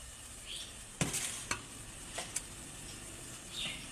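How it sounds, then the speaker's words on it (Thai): Water bubbling at a steady boil in a pot, a soft continuous hiss with a few faint clinks, quiet and close. "อันนี้คือน้ำเดือดแล้วนะคะ"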